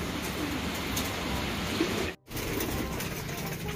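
Pigeons coo softly in a loft at feeding time, a steady murmur of low cooing calls close by, with no talk.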